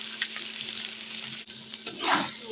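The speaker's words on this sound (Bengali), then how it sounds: "প্রথমে আপনারা এইভাবে আলুটা একটু ভেজে নেবেন" Potatoes frying in oil with turmeric and salt: a steady close sizzle fills the whole stretch, with a brief dip in the middle and a swell of louder crackling as the pieces are stirred near the end; no talking.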